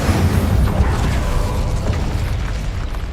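An Incendio fire spell blast in the video game Hogwarts Legacy, a loud, dense roaring burst that holds steadily for several seconds before easing slightly.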